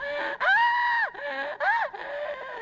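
A narrator reading a story aloud imitates a frightened little girl's screams, giving three long, loud, high-pitched wails with short breaks, the voice rising and bending at each end.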